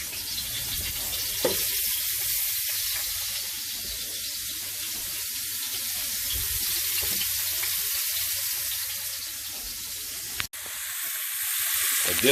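Seasoned turkey necks with garlic, black pepper and lemon pepper frying in hot grease over a low-medium fire, giving a steady, close hiss with a couple of brief pops and knocks.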